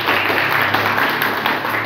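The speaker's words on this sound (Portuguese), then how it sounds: "Quem gostou do quarto pode aplaudir." Audience at a school event in Maringá, Paraná clapping together in a dense, steady burst of applause, loud and close, filling the short moment without a break.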